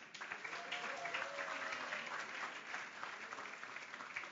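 Sustained audience applause at an award show honouring young achievers, a dense steady wash of clapping from a large crowd that holds at an even level throughout.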